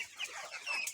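Fayoumi (Egyptian) chickens raised on a farm cluck in a quick, uneven run of short calls, close by and fairly soft, with no talking over them.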